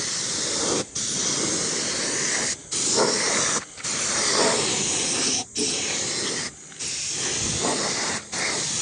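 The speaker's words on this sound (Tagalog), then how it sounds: "Medyo kailangan kasi magaan din yung kamay nyo mag-spray." Spray gun hissing steadily while repainting the body of a TMX155 motorcycle, several sustained bursts broken by short pauses, close and loud with no talking.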